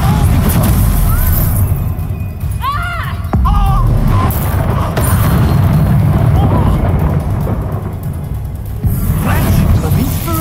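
Expulsum spell in Hogwarts Legacy going off as a loud, booming magical blast amid battle noise. Heavy rumbling and bursts fill the scene, and voices and other combat effects are mixed in.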